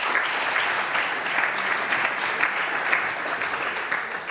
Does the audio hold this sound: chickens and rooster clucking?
no